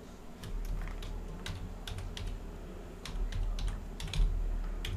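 Password being typed on a computer keyboard for a MikroTik router connection, a steady run of light, quick key clicks with no talk over a low background hum.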